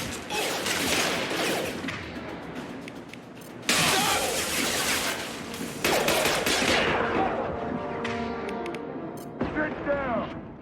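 Sustained rapid gunfire and shattering impacts from a firefight in Mass Effect 2, dense and loud throughout, with sharp bursts punctuating the clatter and voices shouting underneath.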